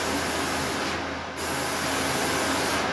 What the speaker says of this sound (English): What you do is you first spray the back of the pan.